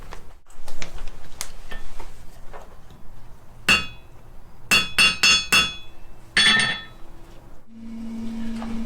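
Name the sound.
hammer hitting a metal hook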